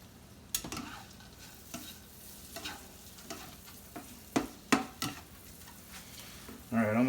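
Chicken browns in a hot frying pan with a soft, steady sizzle, broken by several sharp clicks and scrapes of a utensil against the pan, and a louder burst of frying near the end.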